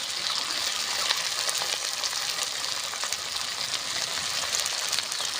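A pan of spices with dried chilli, cumin, ginger-garlic paste, tomato, chilli powder, turmeric and salt fries for a fish recipe, a loud, steady, dense sizzle running throughout with no talk.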